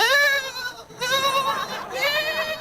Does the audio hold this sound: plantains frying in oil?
no